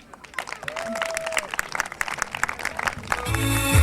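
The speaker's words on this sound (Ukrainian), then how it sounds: "більші оплески дайте нашим гостям за подарунки" Applause from a crowd at a Ukrainian Ivan Kupala festive celebration, a dense run of claps building in loudness over a few seconds, with a voice heard over it.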